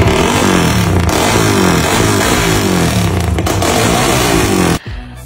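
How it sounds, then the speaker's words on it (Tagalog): A 220cc motorcycle engine revs loudly and steadily up close with a rough, pulsing drone, then cuts off abruptly near the end. "Ginawa kasi nating 220cc yung makina ni Batog"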